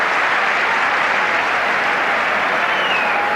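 Spectators at a Manchester United versus Ipswich Town football match clap around the ground, a dense, sustained roar of applause from a large crowd, steady and loud from start to finish.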